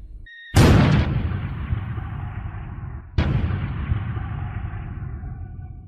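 Booming 105 mm artillery fire from a divisional battery opening a battle, two heavy blasts about two and a half seconds apart, each with a long rumbling decay, loud and alone.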